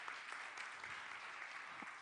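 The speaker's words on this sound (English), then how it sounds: "Big round of applause for Lolita for getting the right answer." A forum crowd at a 2017 investment conference applauds continuously, even broadband clapping from many hands, fairly distant and soft with no voices over it.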